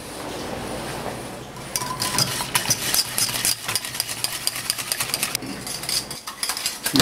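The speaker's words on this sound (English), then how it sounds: "We keep stirring over a low to medium heat for about 10 minutes" Eggnog stirred in a pot over low to medium heat, a spoon scraping and clinking against the metal in quick irregular strokes after a quieter, hissing start.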